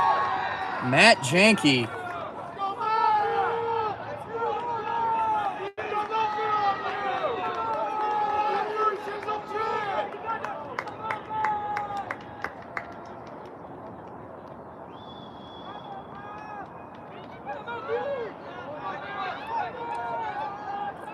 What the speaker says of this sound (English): The crowd urging on.